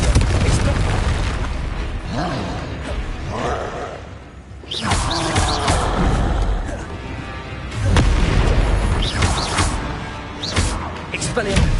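Confringo fire-blast spells from Hogwarts Legacy burst as repeated booming explosions in a busy game fight, loud and close, with bursts returning every few seconds under shouted spell-casting voices.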